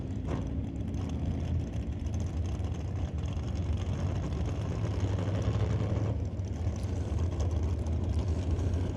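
A Chevelle drag racing car at an NHRA test-and-tune session, its engine a steady low rumble that holds for several seconds at moderate distance, with no voices over it.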